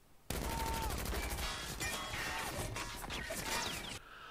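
Gunfire striking Iron Man's metal mask in the 2008 film: a dense, continuous rattle of impacts and crashing metallic hits lasting several seconds before cutting off abruptly.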